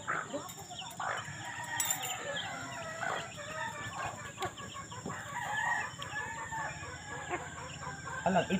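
Backyard chickens on a Philippine homestead cluck and a rooster crows repeatedly, near and loud, over busy rural background chatter and bird calls.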